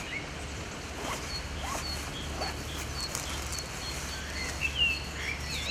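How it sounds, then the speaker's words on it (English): Wind rustles through the trees around a spring trout fishery, a soft, steady hiss, while scattered small birds chirp and tweet faintly in the distance; a low hum lies underneath and no one speaks. "just the wind in the trees, loads and loads of birds here"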